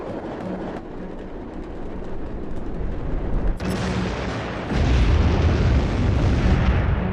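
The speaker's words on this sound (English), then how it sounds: "the fireworks continue, and the explosion has set off a chain reaction inside the compound" Deep rumbling blasts from a fireworks compound exploding in a chain reaction roll on continuously, with a sharp crack midway and a heavier, louder roar of explosions building toward the end.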